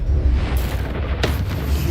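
Incendio fire spell cast in Hogwarts Legacy: one sharp, loud burst erupts mid-way over a constant low rumble of game ambience.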